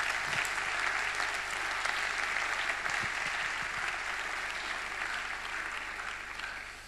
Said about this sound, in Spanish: quiero empezar por un fuerte aplauso para todos ellos